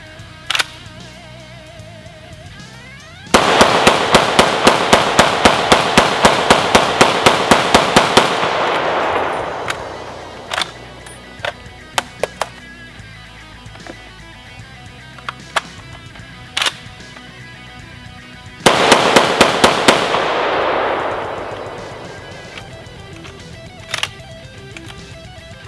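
A Century C308 rifle fires during a 1000-round torture test, two long rapid strings of loud sharp gunshots with scattered single shots between, close and dominant.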